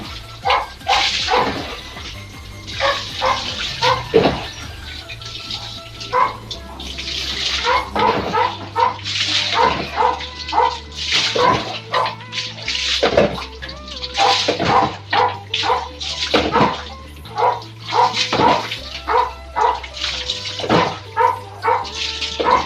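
Several pet dogs at a home bark in repeated short bursts, near and fairly loud, over a steady rhythmic background hum.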